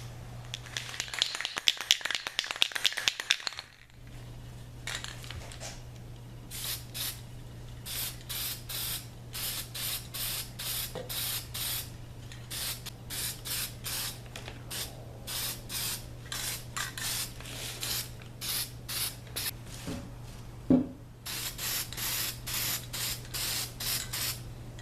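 Silver spray paint hisses from an aerosol can onto old mini bike parts in a series of short bursts, one long spray first and then many quick, evenly spaced pulses, close and clear over a low steady hum.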